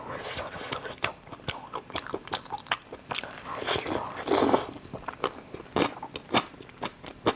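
Close, crunchy bites and chewing of pork skin wrapped around chili peppers, a run of sharp crunches and crackles in an irregular rhythm, with some speech and background noise mixed in.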